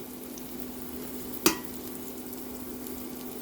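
Minced ginger and garlic frying in a pan for arroz caldo rice soup, a soft steady sizzle with low hum beneath and a single sharp clatter of a utensil partway through.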